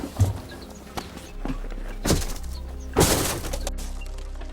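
A train's window glass being broken out with repeated strikes: several sharp cracking impacts at uneven intervals, each followed by a brief shattering burst, with a low rumbling background throughout.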